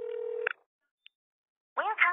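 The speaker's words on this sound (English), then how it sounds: "Just dial 777." Telephone keypad dialing tones: a sustained tone ends in a short keypress beep, a tiny blip follows after a pause, then a voice speaks near the end.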